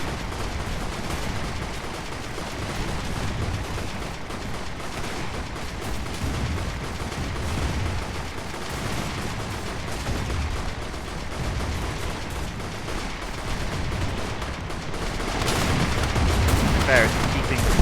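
Steady, dense gunfire from airship guns in the game Airships: Conquer the Skies, a continuous battle clatter of shots and booms that swells slightly toward the end, with no voices.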